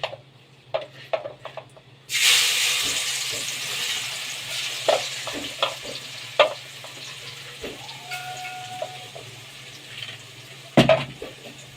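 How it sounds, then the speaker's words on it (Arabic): Onion hits hot fat for an okra and meat tagine, bursting into a steady sizzle after a couple of seconds, with scattered clinks and stirring taps of utensils against the pan nearby. "حطينا المادة الدهنية بتاعتنا وهنحط البصل"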